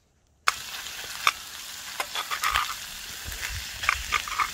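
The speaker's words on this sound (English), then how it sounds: "I just decided to try to heat up a little bit of corned beef hash and try out this rocket stove for the first time" Corned beef hash sizzles and fries in a Lodge cast iron pan over a rocket stove outdoors, with a steady crackling sizzle broken by sharp metal scrapes and stirring clicks at close range.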